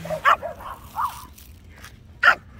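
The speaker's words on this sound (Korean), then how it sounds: "이 짖음은 계속됩니다" A dog gives a few sharp, close barks and yips spread across a couple of seconds, with short whiny sounds between them and quiet gaps, no talking.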